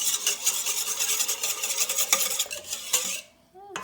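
Batter for Ethiopian hibist dabo steamed bread being stirred in a bowl, a steady scraping swish with light clinks of the utensil against the sides for a few seconds before it stops.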